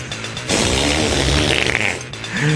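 A long, loud, sputtering cow flatulence sound effect lasting about two seconds, with a low rumbling buzz.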